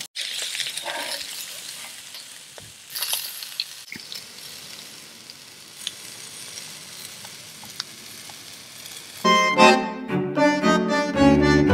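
Beer brats and peppers sizzling in oil on a Blackstone griddle: a steady hiss with occasional clinks of a utensil, and a brief burst of louder sound near the end.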